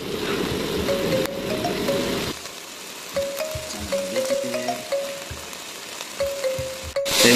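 Garlic frying in a pan makes a dense, crackling sizzle for the first couple of seconds, then cuts off, leaving short high electronic beeps and soft clinks over quieter background.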